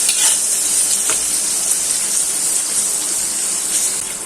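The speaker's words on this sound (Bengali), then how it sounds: "পেঁয়াজটা ভালো করে ভাজা হয়ে যাবে" Chopped onions fry in fish oil in a pot while being stirred, making a loud continuous sizzle with a few soft scrapes of the spoon and a slight fade at the end.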